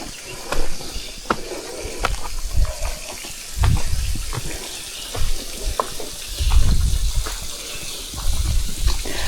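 Water rushing steadily at Rylander Cascades during low-flow conditions, a continuous broadband wash with brief splashy bursts and rumbling swells, close by with no talking.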